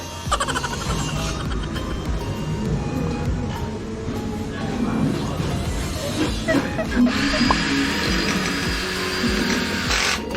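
Loud mechanical whirring and grinding of a power drill boring into a support bracket for a fish pond filter overflow fitting, continuous and busy, with a voice talking underneath.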